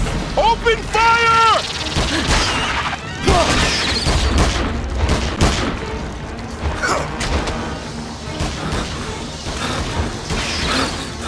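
Rapid gunfire and booming blasts from the King Kong video game ring out in a dense, loud battle mix, with shouted voices heard over the shooting.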